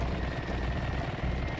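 Low, rumbling helicopter rotor noise from the video game Serious Sam 3: BFE drones on continuously with a throbbing, pulsing texture and no talking.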